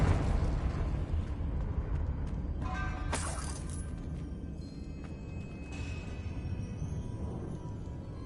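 A Confringo blasting spell goes off in Hogwarts Legacy, a sudden crackling burst mid-clip over a low, steady ambient rumble, followed later by a fainter second pop.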